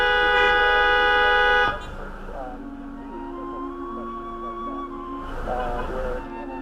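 Car horns at a busy intersection, a long steady honk that cuts off, followed by further sustained horn blasts at different pitches over traffic noise.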